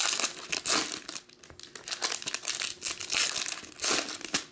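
Plastic wrapping crinkles and crumples close up as it is peeled off 2019 Panini Prizm NFL football trading cards, a dense run of crackling bursts with brief pauses.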